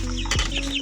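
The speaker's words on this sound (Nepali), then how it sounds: "यहाँ चाहिँ चल्लाहरू छ हेर्नु।" Poultry calls in a Nepali village cowshed where young chicks are kept, with a short clucking burst near the middle over a steady low hum and faint high chirps; no one speaks.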